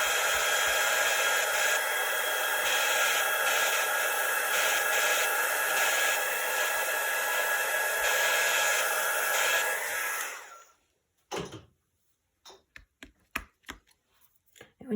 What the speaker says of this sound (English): When you guys do the heat gun or the quick dry tool